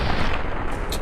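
A shotgun fires in the video game Fallout New Vegas with a loud, heavy gunshot blast close up. It leaves a dense, rumbling tail, and a brief higher crack comes near the end.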